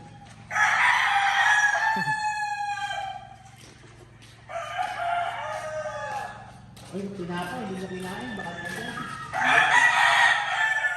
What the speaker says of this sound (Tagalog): Isa pang broodcock na golden boy.